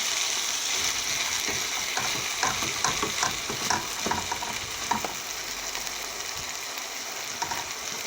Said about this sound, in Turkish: Evet güzelce de kavurdum arkadaşlar 3-4 dakika